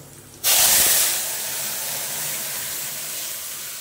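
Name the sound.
dal poured into hot tempering spices, sizzling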